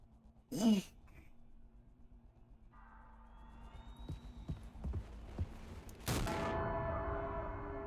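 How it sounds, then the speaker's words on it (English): Gunshots in the video game Mouthwashing: a few sharp cracks spaced over a low droning backdrop, then a heavier, louder blast near the end that rings on. "How many times do I need to shoot him?"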